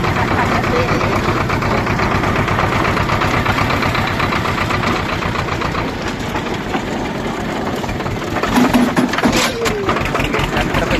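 A Swaraj 724 tractor engine runs steadily at close range, a continuous rhythmic diesel chugging and rattle that holds loud throughout, with a brief rise in clatter near the end.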